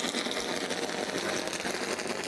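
A NASCAR truck engine idles nearby in a garage at Talladega, a steady, buzzing, dense rattling drone that holds constant without pauses or voices.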